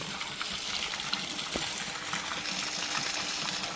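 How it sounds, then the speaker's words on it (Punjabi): Water from a borewell gushes steadily as it is pumped continuously until it runs clear, a constant rushing, splashing wash with no speech. "ਪਾਣੀ ਵਧੀਆ ਨਾਲ ਹੁੰਦੇ ਜਿਉਂ ਜਿਉਂ ਖੁੱਲੀ ਜਾਂਦਾ ਬੋਰ"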